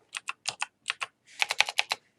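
Quick bursts of computer keyboard typing while a Linux command is entered: a short run of close, crisp key clicks, a pause, then a faster cluster of keystrokes, with no talking.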